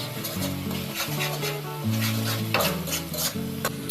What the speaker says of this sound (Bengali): মশলাটা একটু যখন ফ্রাই ভাজা ভাজা হয়ে যাবে তখন দিয়ে দিলাম কিশমিশ